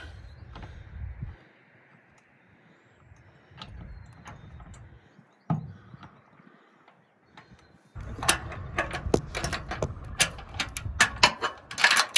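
Bolts on a boat trailer spare tire holder are hand tightened and waggled, giving intermittent metallic creaks, clicks and rattles up close, sparse at first and then a denser burst of rapid clinks and scrapes.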